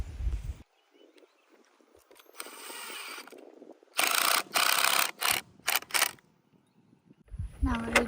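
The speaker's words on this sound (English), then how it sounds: "I'm screwing the fence wire to the energizer." Fence wire being screwed onto an electric fence energizer, heard as scraping, ratcheting twists in several close bursts separated by quiet gaps, with a voice briefly at the end.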